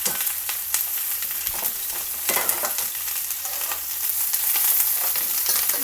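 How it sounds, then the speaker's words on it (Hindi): Onions frying in a pan for chicken biryani crackle and sizzle continuously, broken by scattered clicks and scrapes of stirring, close and loud, with no speech. "प्याज अब मैंने डाल दिए हैं।"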